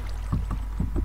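A boat glides across the water in Minecraft, with soft rhythmic paddle splashes repeating at a steady pace, quiet and close.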